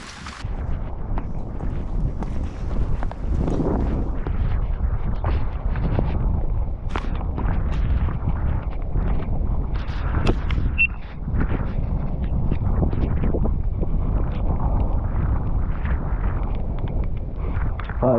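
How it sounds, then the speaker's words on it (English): Strong gusting wind buffets the microphone beside a choppy lake while fishing, a loud continuous roar with rough surges and no speech. "it's really windy and choppy"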